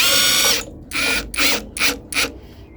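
An air impact gun with an adapter and small socket hammering at an 18mm nut on a puller during a Reliant Regal Supervan 3 restoration: a loud sustained burst, then four short rattling bursts, up close.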